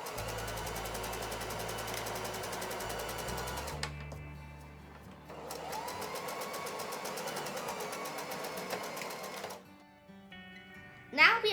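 Two sustained runs of a sewing machine stitching the side seams of a tote bag, steady and fairly close, broken by a short pause and ending with a brief clatter.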